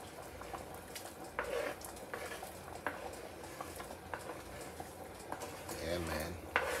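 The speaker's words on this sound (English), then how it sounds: "Season up the pot. I'm using all of these and just let it simmer down." Jamaican stew peas simmering in a seasoned pot give a steady, low bubbling hiss throughout, with someone talking over it.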